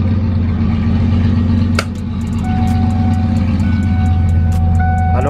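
A car engine idles steadily while warming up to operating temperature with the coolant fans still off, a low, even hum close by that runs alone with a few faint higher clicks and tones over it.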